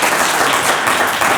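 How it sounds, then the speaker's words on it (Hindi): A live audience at a Hindi-Urdu storytelling talk breaks into sustained, dense applause, steady and fairly loud throughout with no voices on top. "बजा दे ताली, बजाएं बजाएं, भाई का साथ देंगे"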